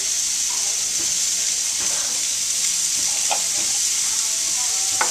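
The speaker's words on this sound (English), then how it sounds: "We'll go ahead and add our garlic now, our fresh chopped garlic." Freshly chopped garlic for jambalaya sizzles steadily in a hot pan, a constant close frying hiss with occasional small pops and stirring scrapes, and no talking over it.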